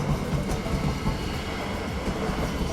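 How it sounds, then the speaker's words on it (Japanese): A regional passenger train bound for Selzthal, Austria, departs a station nearby with a continuous rolling roar and faint rhythmic clatter of wheels over the rails. "今出て行ったのはゼルツタール駅行きの普通列車で"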